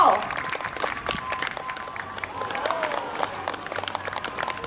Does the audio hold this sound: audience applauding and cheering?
yes